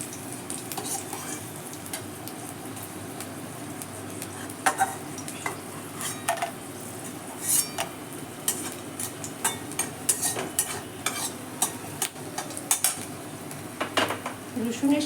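Whole garlic cloves stirred in hot oil in a pan, with a steady sizzle and repeated sharp clinks and scrapes of a utensil against metal, fairly close and without talk.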